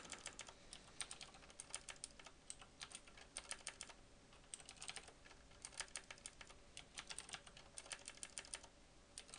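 Steady typing on a computer keyboard, a quiet run of quick, irregular key clicks continuing for several seconds with no talking.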